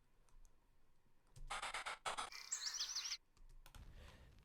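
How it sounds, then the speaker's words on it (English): Bird chirp samples chopped into a rhythmic beat: bursts of bright, rapid chirps repeat in tight patterns alongside clicky percussive hits, loud and up front with no voices. "Yeah, more birds, and made them rhythmical"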